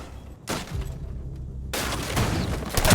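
A shotgun blast in Rainbow Six Siege: one loud, close boom around the half-second mark, then a second burst of heavy gunfire and impacts later on, with no voices.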